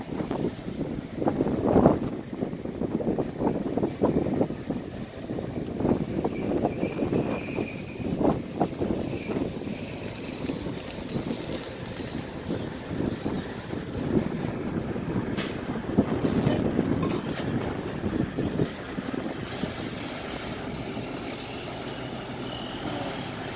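Steady wind buffets the microphone in gusty rumbling waves throughout, loud and close, with faint background sounds underneath.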